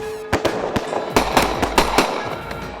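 Several sharp shotgun blasts crack out during a duck hunt as a large flock comes in, about eight loud reports in under three seconds, some overlapping, ringing across open water with no talk.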